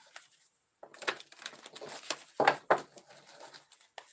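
Crisp papery rustling and soft slapping of tarot cards being shuffled by hand, close and fairly quiet, in short irregular bursts.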